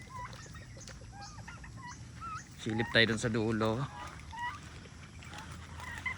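Turkeys on a farm give a burst of loud gobbling calls midway, close by, amid scattered chirping birds and someone speaking briefly.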